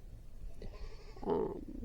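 A goat bleating in a pasture, one short, faint call partway through against quiet outdoor background.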